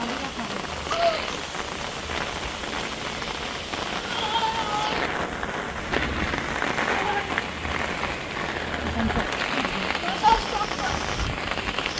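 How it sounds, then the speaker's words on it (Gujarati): Rain falls steadily on a rooftop terrace during the monsoon, a continuous dense patter that stays even for the whole stretch, with a few louder drips standing out near the listener. "વરસાદ ચાલુ"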